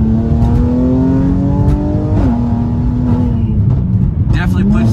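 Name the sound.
Mercedes-AMG C43 accelerating with carbon fiber intake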